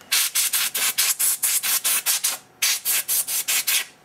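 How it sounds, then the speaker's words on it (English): Rapid, evenly spaced bursts of compressed air from an air duster hiss close-up onto a part from an HP DV6000 laptop being readied for reballing, about twenty short blasts with one brief pause, no talking. "And I'll take my trusty air duster and"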